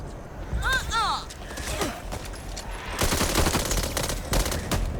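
Rapid bursts of gunfire come from the zombie shooter game Back 4 Blood, with full-auto rattles mixed with other game effects and a player talking over them.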